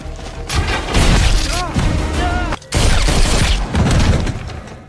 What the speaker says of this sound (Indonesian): Akan tetapi, duel mereka terpisahkan oleh tembakan dari salah satu pasukan Dave Raux.